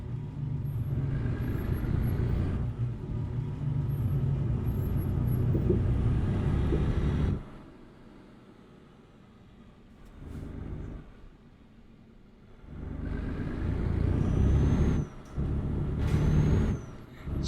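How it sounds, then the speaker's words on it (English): A flatbed truck in a trucking simulator game rumbles along with a steady low engine drone that drops away and surges back, with hissing air-brake releases near the end. "And we're driving a flatbed here."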